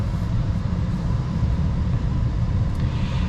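Low, steady cabin rumble and tire road noise from inside a 2024 Audi Q4 e-tron electric SUV on the move, constant and fairly loud, with no engine note and no talking.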